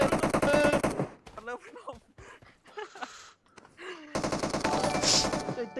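Rapid automatic gunfire in the video game PUBG, dense bursts of shots at the start and again near the end, with a player talking in the quieter gap between.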